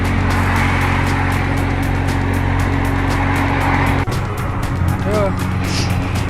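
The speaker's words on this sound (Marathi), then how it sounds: "हे बघा, हा गाडी कसं पळवतोय बघा." An auto rickshaw speeds along the highway from Pune to Solapur, its engine and road noise forming a loud, steady roar throughout, with a brief dip near the end while a voice talks over it.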